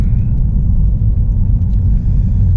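A car travels a country road before a December storm, giving a loud, steady low rumble of engine and tires heard from inside, with no break.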